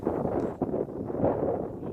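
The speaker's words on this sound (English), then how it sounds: "A little windy on this corner." Wind gusts across a soccer field during a men's club match, buffeting the microphone with low rumbling bursts that rise and fall over a couple of seconds.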